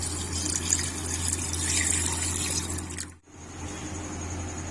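About one litre of water being poured or run into a pressure cooker with mutton for a one-pot mutton pulao, a steady close gushing wash that cuts off abruptly near the end, leaving a quieter hiss.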